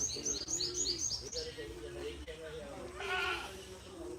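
Goats and sheep at a weekly livestock market bleat in a busy outdoor crowd, with high repeated calls up front and a louder bleat near the end, amid background voices and chirping.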